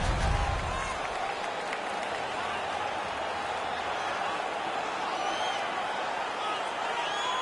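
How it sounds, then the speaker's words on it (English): A hockey arena crowd at a Utica game roars and applauds after a fight, a dense sustained wash of cheering and clapping that stays loud and steady throughout. "The crowd is ecstatic."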